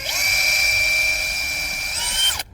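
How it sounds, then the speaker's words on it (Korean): A power drill bores a hole into a wooden Christmas decoration in a countryside workshop, its steady high whine running loud and close for over two seconds before spinning down abruptly. "구멍 하나 뚫어."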